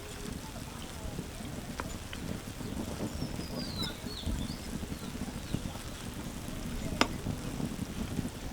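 Kalojam sweets fry in hot oil, a dense, steady sizzle and crackle with occasional faint clicks and pops throughout.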